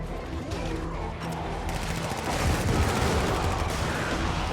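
Robots in Helldivers fire in a steady, dense rattle of gunfire, loud and sustained throughout with sharper bursts in places, and a voice is faintly heard beneath.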